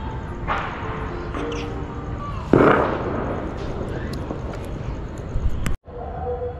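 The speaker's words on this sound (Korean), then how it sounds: "포탄이 사방에서 계속 터지고 있습니다" Scattered booming blasts of fireworks or firecrackers during a major festival in India, one loud burst standing out among distant pops, with people talking over a noisy outdoor background.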